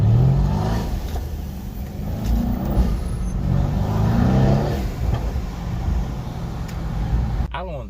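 Mercedes C63 with a JB4 tune accelerating hard on a New York street, a loud, steady engine roar that holds for several seconds before cutting off abruptly near the end, with no talk over it.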